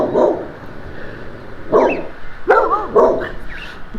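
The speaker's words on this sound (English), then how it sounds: "Always a lot of dogs in the neighborhood when you're walking." Several dogs bark in a neighborhood while someone walks past homes, with a couple of bark bursts early on and a cluster of sharp, moderately close barks toward the end.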